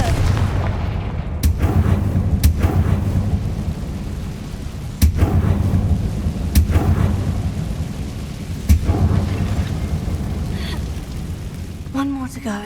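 Explosive Confringo fire spell bursts in the game Hogwarts Legacy, several sharp booms spaced a second or two apart over a low rumbling game ambience, with a voice casting spells.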